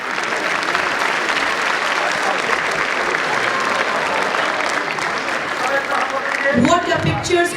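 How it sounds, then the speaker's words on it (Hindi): An audience at a school silver jubilee event gives loud, sustained applause for an actor, steady and dense, with a voice starting to speak over it near the end. "जोरदार तालियां के लिए।"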